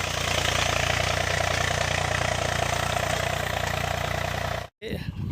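A tractor engine chugs steadily at idle on a goat farm, a continuous loud rumble that cuts out abruptly near the end before resuming more faintly.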